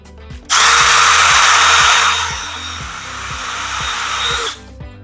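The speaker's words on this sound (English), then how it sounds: "we're going to drill right in the center" Electric drill boring into a homemade garden tower, a loud steady whine that starts abruptly, holds for about four seconds with a slight dip in pitch as the bit bites, then cuts off.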